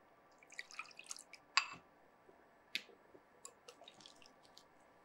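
Tamarind water added to a tomato ginger curry, with a few faint drips, splashes and soft wet squishes scattered over quiet, close kitchen background and no talk.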